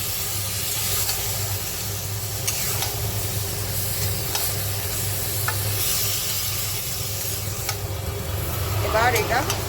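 Fried pieces go into a pan of sizzling masala with prawns and green chillies for a green jackfruit and prawn curry, producing a steady hiss and sizzle with occasional stirring scrapes throughout.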